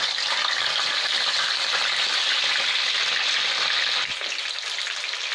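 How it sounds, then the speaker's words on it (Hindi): Chicken pieces fry in hot oil over medium heat, giving a steady, close hissing sizzle that carries on evenly and softens slightly near the end. "एबे तेल गरम हो गलानी, मीडियम हीट रे ही अछि। तो एबे एथिरे हमें चिकन टा को पुणी पकईबा।"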